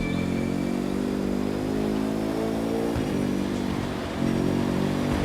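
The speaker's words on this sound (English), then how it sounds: "Those engines are going to make for a loud wake-up call if anyone's sleeping in this resort area today." Hypercar engines in The Crew 2 rev loudly and steadily with layered droning harmonics, a brief dip before surging back near and strong, no talk over it.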